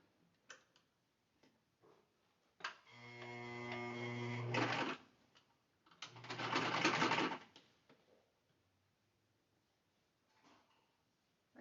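A sewing machine stitches bias binding onto fabric in two bursts of fast, buzzing whirring, each a couple of seconds long and separated by a pause, with soft ticks and handling clicks in the quiet between them.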